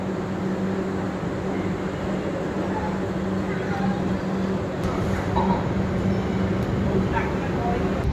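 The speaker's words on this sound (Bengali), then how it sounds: "মোটামুটি 8 মিনিট হল্ট করার পর ছেড়ে দিল আমাদের ট্রেন খোর্ধা রোড জংশন থেকে" Puri Howrah Super Fast Express pulls out of Khurda Road Junction, a continuous low rumble and rolling clatter heard from inside the train, with voices of passengers talking over it.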